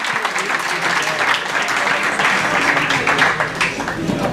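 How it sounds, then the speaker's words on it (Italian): A crowd gives a sustained round of applause for a basketball coach, steady dense clapping filling the whole stretch at a fairly loud level, with no talking over it. "Coach Maurizio Buscaglia, fategli un grande applauso"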